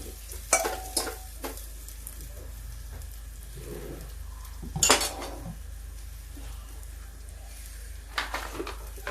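Mustard seeds crackle in hot oil for a tempering, with sharp utensil clinks and stirring scrapes against the pan over a low frying hiss.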